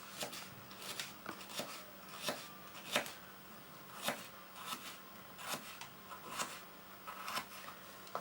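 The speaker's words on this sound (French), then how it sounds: "On coupe en 3 et après on fait des petits dés." A knife dices carrots on a cutting board, sharp clicks repeating about every half second, close and fairly quiet with no talking.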